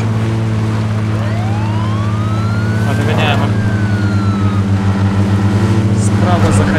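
A police car siren wails in the PUBG video game, with a rising and falling tone over steady engine rumble. It is loud and close, and voices chatter beneath it.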